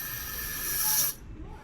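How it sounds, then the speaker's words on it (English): A steady aerosol spray of lithium grease hisses up close for about a second on a Moken 10 pedal drive, then cuts off abruptly, leaving only faint room noise. "I'm just going to spray some in there."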